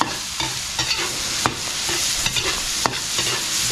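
Garlic, onion and ginger sauté in a hot pan, a steady close sizzle and frying hiss with repeated stirring scrapes and clacks of a utensil, no talking.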